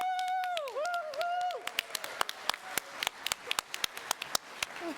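A small church congregation claps in sparse, uneven bursts, fairly close, following a voice at the start.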